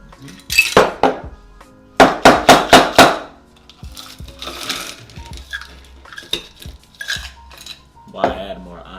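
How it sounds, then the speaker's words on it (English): Ice cubes clink and rattle into a glass while an Ojen mojito is being mixed, with a quick burst of several sharp, loud clinks followed by quieter shuffling and knocks of ice and glassware. "Why add more ice? Just to fill up the glass."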